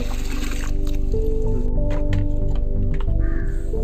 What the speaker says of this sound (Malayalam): ഇനി ഒരു ബക്കറ്റ് എടുക്കുക, അതിൽ കുറച്ച് വെള്ളം ഒഴിക്കുക.